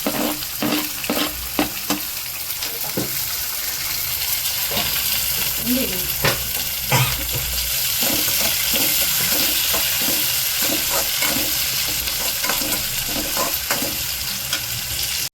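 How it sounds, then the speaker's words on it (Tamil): Tomatoes sautéing in a pan, with a continuous loud sizzle and hiss and a run of rhythmic scraping strokes as they are stirred, close up, with faint voices in the background. "இந்த ஸ்டேஜில் தக்காளி போட்டுக்கலாம் நல்லா வதங்கிட"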